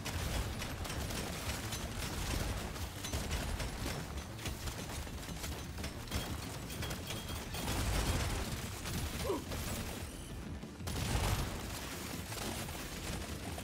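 Chaotic in-game combat in Deep Rock Galactic on Hazard 5 in the Salt Pits, with an electrical build setting off repeated crackling electrical explosions amid dense gunfire and mechanical clatter, a continuous busy wash with brief dips.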